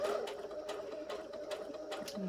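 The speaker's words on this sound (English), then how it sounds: "go in, and lift the presser foot again, and start sewing." A sewing machine stitches fabric for a small lip balm pouch, a close, steady motor whir with a quick, regular ticking of the needle throughout.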